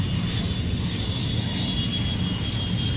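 An airplane arriving at the Royal International Air Tattoo drones as a steady, loud engine roar that holds unchanged for a few seconds, with no voices.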